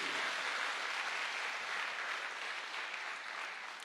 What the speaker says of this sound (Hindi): एक जोरदार तालियां होनी चाहिए हमारे नए गेस्ट के लिए